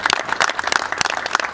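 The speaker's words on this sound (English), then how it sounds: "give them a round of applause" Applause from a crowd at the Watson Cup trophy ceremony for the team, a dense patter of clapping that carries on steadily, fairly loud and close.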